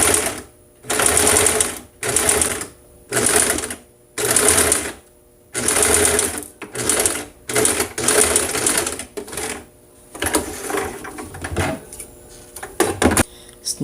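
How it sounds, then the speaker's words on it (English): A sewing machine stitches a corner seam in short, loud bursts of rapid mechanical chatter separated by brief pauses, about eight runs in the first ten seconds, then softer handling clicks and fabric rustle toward the end. "So next, continue sewing."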